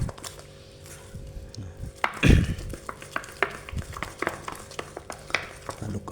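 Carp fishing bait dough being stirred and kneaded by hand, giving soft irregular squelching and thumping strokes at close range, with one louder pressing thud early on.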